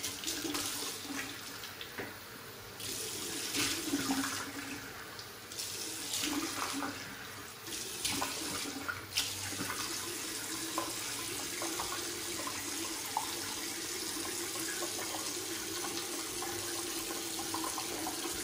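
Tap water runs steadily into a bathroom sink, a continuous splashing stream with brief shifts in flow near the start, heard alone at moderate volume for the whole stretch.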